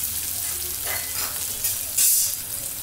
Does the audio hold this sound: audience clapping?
no